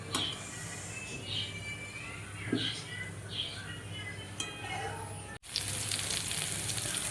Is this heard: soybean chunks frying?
yes